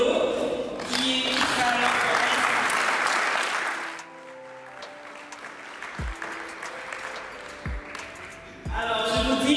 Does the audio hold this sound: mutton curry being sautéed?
no